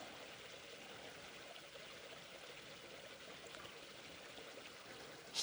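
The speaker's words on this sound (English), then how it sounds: "And this little creek meandering through." A small creek runs through woodland with a steady, soft, continuous rush of water and no voices.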